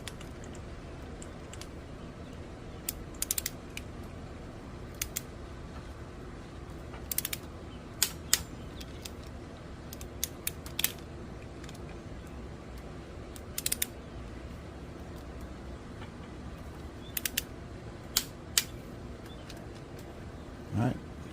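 A wrench torques the oil pump bolts on a Yamaha Raptor 660 crankcase, giving scattered short ratcheting clicks in small bursts over a steady low hum, close by, with someone talking over it.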